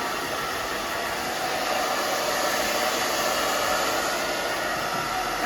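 Hair dryer blowing steadily on the back of a woman's hair during a haircut and blow-dry at a salon, a loud continuous broadband rush with no pauses and no voices.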